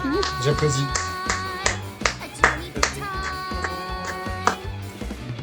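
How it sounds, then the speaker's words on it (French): A streamer claps along while background music with sustained tones plays; a run of sharp, close single claps in a rough beat, some louder than others, sits over the music. "J'applaudis."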